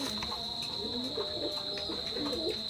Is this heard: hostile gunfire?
no